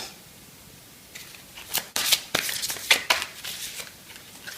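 A deck of cards is shuffled by hand in a few quick riffling bursts, crisp and close, with no talking over it.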